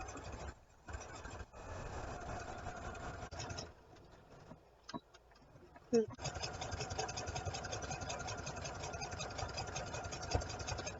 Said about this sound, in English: we're just sewing up this edge here